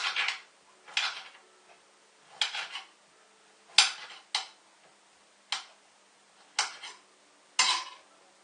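Sliced nectarines and pears with skins left on, tipped into a casserole dish: a series of about eight short, bright clattering drops of fruit pieces landing, separated by pauses, fairly close and with no talk.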